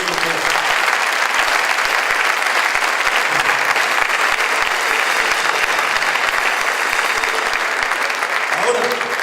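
A church congregation applauds loudly and continuously, a dense wall of many hands clapping in a large room with crowd noise mixed in, sustained at full strength throughout.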